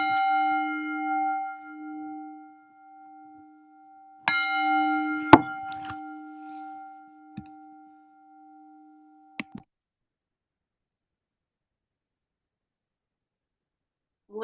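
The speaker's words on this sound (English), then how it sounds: "The sound of the bell brings me back to my true home." A mindfulness bell is struck and rings with a sustained, resonant tone that slowly decays, followed by a second strike and a few faint clinks before silence.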